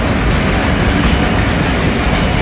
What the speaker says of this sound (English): that's the bullet train KTX